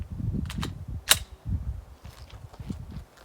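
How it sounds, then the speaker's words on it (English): A Glock 19 frame fitted with a Dagger slide fires into dirt outdoors, one sharp crack standing out amid quieter clicks and handling noises. "let's go shoot it in the dirt and see what happens"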